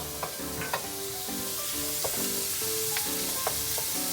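Pork sizzling steadily in a hot pan while being stirred, with repeated clinks and scrapes of the utensil against the pan over a constant loud frying hiss, no voices.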